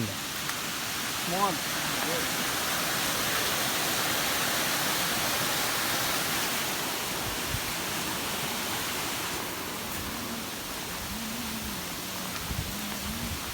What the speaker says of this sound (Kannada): ಅಂದ ಜಲಪಾತ